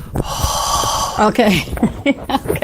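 A person imitates heavy breathing directly into a close microphone, with loud, rough huffs and snorting breaths, and brief spoken words break in between the breaths.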